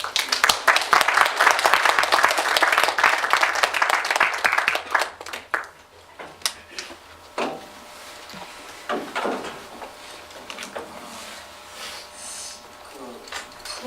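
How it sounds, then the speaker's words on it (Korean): Brief burst of audience applause at a gathering of Sewol ferry victims' families and Dallas residents at a Korean church, dense clapping for about five seconds that quickly fades to scattered claps and room noise. "다시 한번 위로의 차원으로 우리 박수 한번."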